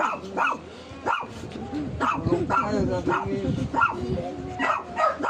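Several dogs bark and yip in repeated bursts close by, with some whimpering mixed in, while a person talks over the barking throughout.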